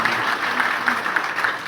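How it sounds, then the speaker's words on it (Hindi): An audience claps steadily at a business training seminar, a dense, even wash of applause from a crowd in a hall, continuous for the whole moment without pause. "ताली सारे बजाओ यार,"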